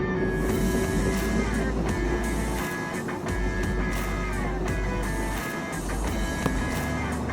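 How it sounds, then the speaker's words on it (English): A bus drives along the road toward a motorbike rider, its engine a steady low drone with a tonal whine, mixed with wind buffeting and road rumble. "Is that a bus coming in the wrong direction?"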